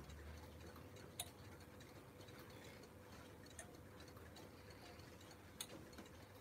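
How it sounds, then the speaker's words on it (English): A clock motor runs inside a clock museum, giving a faint, steady mechanical ticking hum with a couple of sharper clicks, heard up close with no talking. "Probably, I think, the motor for the clock."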